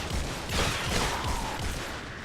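Gunfire in the video game Fortnite aimed for headshots, a dense continuous burst of shots and noisy game effects filling the whole moment at steady loudness.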